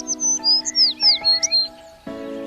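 A sparrow chirps in a quick run of about ten short, bright tweets, clear and near, before a sustained tone takes over.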